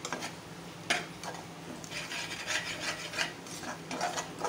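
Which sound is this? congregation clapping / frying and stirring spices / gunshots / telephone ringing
frying and stirring spices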